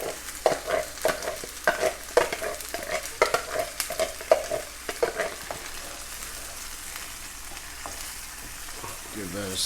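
Two 28-ounce cans of crushed tomatoes are stirred in a pot on a stove at medium-low, with repeated spoon scrapes and knocks over a soft simmering sizzle, and no talking.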